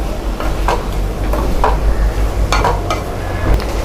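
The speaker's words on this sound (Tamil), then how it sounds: "நல்லா மிக்ஸ் பண்ணி விட்டுக்கோங்க." Amaranth masiyal stirred in a pan, a spoon scraping and tapping in several short strokes over a low steady hum and faint sizzle.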